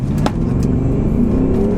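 An Audi SQ7 with a V8 diesel accelerates hard from about 20 mph, a steady deep engine drone heard from inside the cabin with no voices over it.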